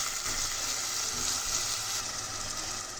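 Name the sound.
chopped onion frying in oil with cinnamon and bay leaf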